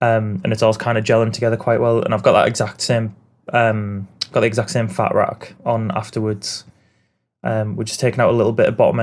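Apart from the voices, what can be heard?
No everyday noise stands out behind the speech.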